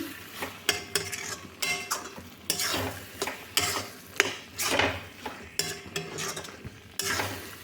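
A spoon works through tomato chutney thick with cashews, raisins and dates in a pan, giving a steady series of scraping, clinking strokes roughly once a second, close up, with a faint sizzle beneath.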